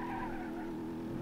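BMW M635 CSi E24 in BeamNG.drive, steady engine roar with tire squeal as the car skids, loud and continuous over a short burst, no talking.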